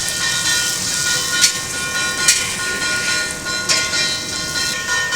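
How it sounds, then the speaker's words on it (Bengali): Young jackfruit frying in a pan in a home kitchen, a continuous close sizzling hiss broken by a few sharp pops and crackles, with no voices. "তো এদিকে এখন ইঁচড় ভাজা চলছে"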